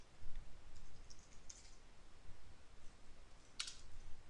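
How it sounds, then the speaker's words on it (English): Sparse, faint clicks of keys being typed on a computer keyboard while writing a C program, a few isolated taps against a quiet background with no talking. "Can't even talk when I'm typing."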